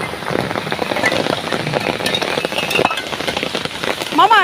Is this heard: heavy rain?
yes